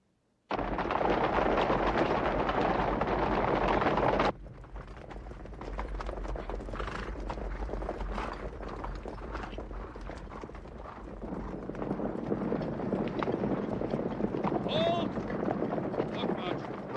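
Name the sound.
horses trotting, hooves clip-clopping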